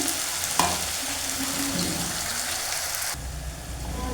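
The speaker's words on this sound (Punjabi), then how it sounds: "ਲਸਣ ਤੇ ਅਦਰਕ ਨੂੰ ਜਿਹੜਾ ਆਪਾਂ ਪਹਿਲਾਂ ਭੁੰਨਣਾ ਆ ਹੁਣ ਇਹ ਭੁੱਜਦੇ ਭੁੱਜਦੇ" Garlic and ginger fry in a hot pan, a steady, close broadband sizzle with brief crackles while a Punjabi turnip and pea sabzi is being prepared. The sizzle shifts tone partway through and continues without talk.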